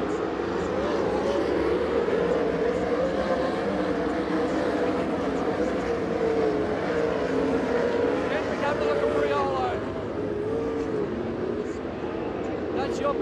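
Sprint cars racing in a feature race at Perth Motorplex, a dense continuous engine roar with shifting whine as cars circulate, steady and loud throughout under faint commentary.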